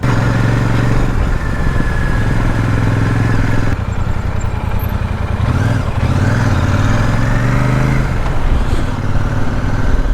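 A Royal Enfield Super Meteor 650 motorcycle engine revs and accelerates up close, its low throttle roar rising and falling through several gear changes, with no voices.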